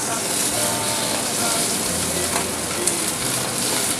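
Ginger, onion and tomato sautéing for Ilocano pinakbet, a steady, dense sizzle of frying that holds level and close for the whole stretch without pause.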